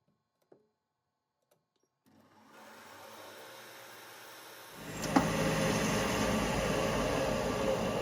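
A drill bores slowly into the valve chamber of a six-cycle engine, its steady motor whir starting after a short quiet gap and growing louder and harsher midway through.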